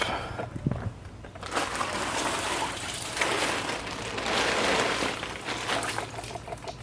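Steady rain patters and hisses across a boat filling with standing water, a continuous wash of drops with some heavier spatters, fairly quiet and without talking.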